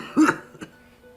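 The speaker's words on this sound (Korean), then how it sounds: "기운이 하나도 없는 목소리로 기침 소리까지 예사롭지 않게 들렸어요" A man coughs once, short and throaty, followed by a softer second catch of breath in an otherwise quiet room.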